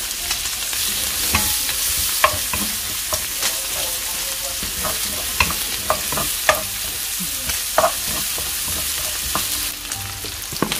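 Garlic sizzling as it fries in oil in a pot, a continuous close crackling hiss punctuated by frequent stirring scrapes and taps throughout, with no talking.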